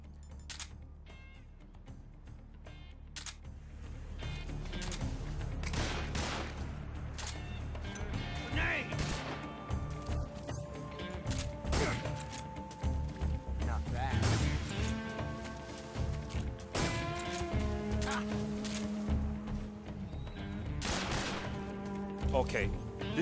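Gunfire in the stealth action game Metal Gear Solid 3, heard as scattered sharp shots and impacts over a busy game soundtrack with effects, running through a long stretch at moderate loudness.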